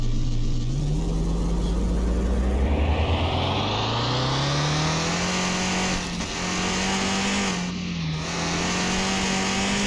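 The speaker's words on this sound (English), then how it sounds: "Sounds like a 3-cylinder too." A small three-cylinder car engine in Car Mechanic Simulator 2021 idles low, then revs up smoothly to a steady higher drone, with a couple of brief dips in pitch; close and continuous, no talking.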